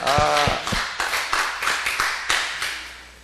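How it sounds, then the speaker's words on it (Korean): A church congregation claps in scattered, uneven bursts, several sharp strikes then a loose round of applause that fades toward the end, with a hint of voices mixed in. "역시 박수 한번 해야 되겠다."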